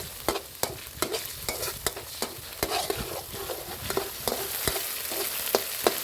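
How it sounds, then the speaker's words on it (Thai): Thai curry paste being stir-fried in a pan for a catfish and sour bamboo shoot curry: sharp rhythmic spatula scrapes and taps roughly every half second over a low steady sizzle, close and without talk. "ผัดพริกแกงจนหอมแล้ว"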